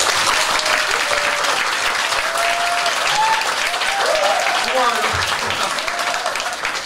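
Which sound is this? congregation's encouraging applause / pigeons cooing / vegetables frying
congregation's encouraging applause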